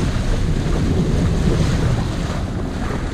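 Sea waves on the open sea heard from aboard a sailing boat, a loud, continuous rush of water and gusting wind across the microphone with no pauses.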